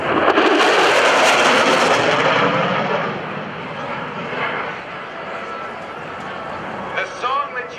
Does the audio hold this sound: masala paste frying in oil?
no